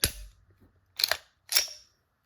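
A pistol fitted with a custom Arc Division Reactor slide gives three crisp, close mechanical clicks of the trigger resetting, evenly spaced with short silences between them.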